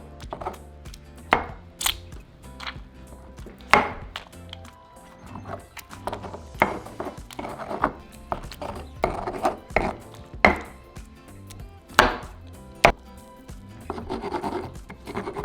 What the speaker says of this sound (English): now we're going to add our tomatoes and crush them